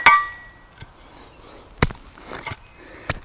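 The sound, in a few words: Cold Steel Special Forces shovel digging into soil and roots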